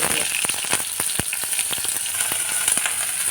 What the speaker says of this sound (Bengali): জিরেটা হয়ে এসছে এবার এর মধ্যে টুকরো করে কেটে রাখা আলু সমস্ত সবজি দিয়ে দেবো